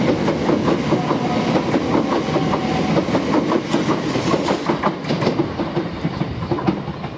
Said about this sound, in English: the train's just about to leave,